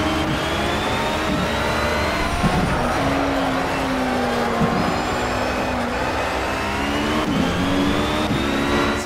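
Audi race car engines in Project CARS roar continuously, revving and shifting pitch through slow corners, loud and steady with several cars blending together.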